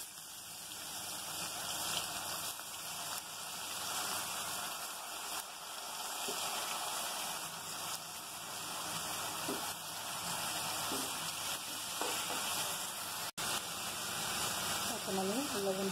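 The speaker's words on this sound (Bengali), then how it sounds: "পেঁয়াজগুলো হয়ে গেছে, এখন আমি আলুগুলো দিয়ে দেবো।" Potatoes and onions fry in oil in a pan, giving a steady, soft hiss and sizzle that runs throughout at low level with little variation.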